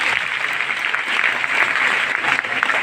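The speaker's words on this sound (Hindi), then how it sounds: "आप सभी के लिए जोरदार तालियां।" Loud, dense applause from a large audience at a direct-selling business meeting, a continuous wash of clapping lasting the whole stretch without a break.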